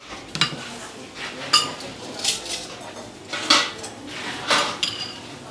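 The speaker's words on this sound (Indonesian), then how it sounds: "tuh mie-nya diaduk di sini ya" Mie ayam noodles being stirred and tossed in a bowl at a street stall, giving intermittent clinks and scrapes of utensils against the bowl against a light background.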